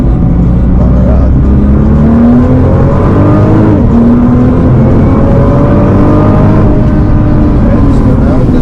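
A 2024 Nissan Z or GT-R accelerating hard out of a corner, heard close from inside the car as a loud, rising engine drone with climbing tones through gear changes, under a continuous road roar.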